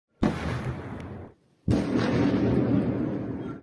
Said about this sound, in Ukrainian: Та серія вибухів.